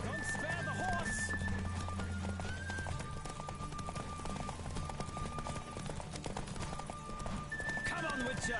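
Hooves of a horse gallop at speed in the video game The Witcher Wild Hunt, a steady clip-clop under game music, with a few neighs and a voice talking over it.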